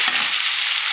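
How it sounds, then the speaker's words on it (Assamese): Taro pieces fry in a hot pan with a loud, close, steady sizzle that stays even from start to finish, with no voices. "এতিয়া দিম কচুখিনি ধুনীয়াকৈ ভাজি ল'ম"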